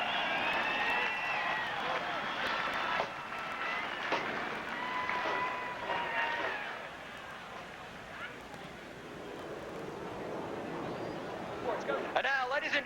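Distant crowd applause in the grandstands at Atlanta's motorsports speedway before the Aaron's 312 race, a faint, steady wash of clapping and cheering with a voice over the public address.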